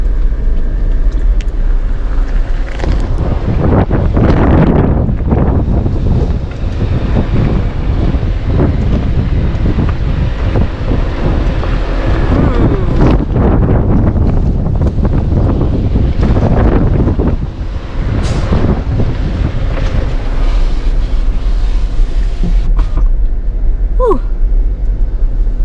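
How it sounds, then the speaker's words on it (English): Strong wind in a rocky canyon during a dust storm at Chicken Corners, loudly buffeting the microphone near a Jeep Rubicon, a continuous heavy roar that swells and eases throughout. "the wind is just a whipping through there"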